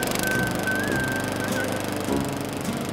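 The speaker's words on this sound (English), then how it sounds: "You wouldn't think of using your lawnmower inside." A lawn mower engine drones steadily close by, a continuous rough buzz with a faint high whine over it and no voices.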